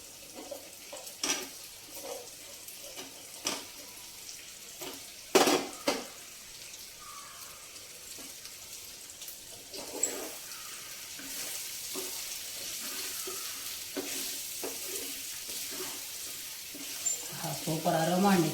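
Mutton and drumsticks fry in a steel pan, giving a low sizzle broken by scattered clanks and scrapes of stirring. The sound builds toward the end, and a voice talks at times.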